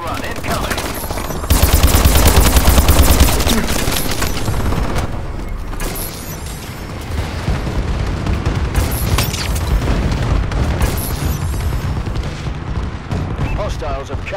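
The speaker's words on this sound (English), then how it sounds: "Friendly bombing run incoming." A bombing run in a Call of Duty multiplayer match: heavy booming explosions and rapid bursts of gunfire, loud and nearly continuous, with a strong low rumble early on and voices heard over the battle.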